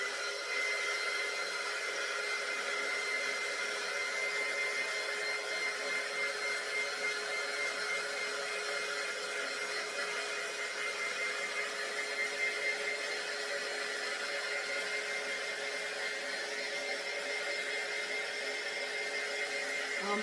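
A hair dryer blows warm air onto painted lettering on a handmade wooden sign, a steady, continuous whirring hum that stays even and fairly close for the whole stretch with no talking.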